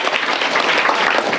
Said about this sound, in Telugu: క్లాప్స్ కొట్టాను అందరూ